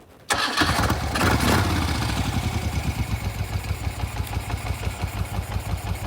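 A 1974 Moto Guzzi Eldorado police motorcycle starts with a sudden crank and catch, revs briefly, then settles into a loud, close, steady lumpy idle with rhythmic pulsing, no voices over it.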